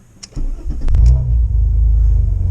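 An Alfa Romeo 147 GTA engine on a road test drive rumbles loudly after a few quick clicks, settling into a deep, steady close-up drone.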